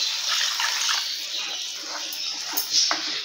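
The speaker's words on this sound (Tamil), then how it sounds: "இப்போ நம்ம இந்த குழம்புக்கு தேவையான தண்ணி சேர்த்துடலாம்." Water poured into a pan of egg curry, a steady broadband splashing that runs throughout at moderate loudness with no talking.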